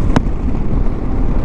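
Heavy low rumbling wind buffets the microphone while riding a Triumph V85TT motorcycle on a windy day, a constant roar dominating with no voices.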